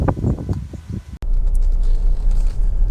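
A Honda Civic 1.6 i-DTEC ES diesel five-door on a road test, its engine and road rumble loud and continuous after a brief pause, with wind buffeting the microphone.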